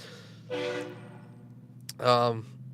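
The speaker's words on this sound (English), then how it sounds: "Someone's got a train horn." Two short blasts of a train horn, close and loud, separated by a pause of over a second.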